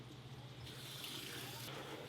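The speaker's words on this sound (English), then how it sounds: "Put a little bit of water in here to create these dough balls, these oatmeal dough balls" Water runs and splashes steadily from a tap into oatmeal being mixed into dough balls for fishing chum, a continuous close hiss and trickle with no talking.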